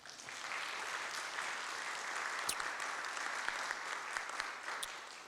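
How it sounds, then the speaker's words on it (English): Steady applause from an audience at a church-hosted book event in East Tennessee, a dense even clatter of clapping that holds for about five seconds with a few sharper individual claps standing out. "Let's applaud them."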